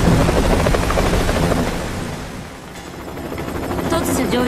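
Helicopter in a Ninja Gaiden 3: Razor's Edge cutscene, a loud, close rotor thrum that dips in the middle and swells back up, busy and rumbling throughout.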